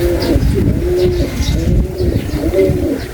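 Racing pigeons coo in a loft with stock birds, a close, repeated series of low throaty coos and soft warbles that overlap continuously with no talking.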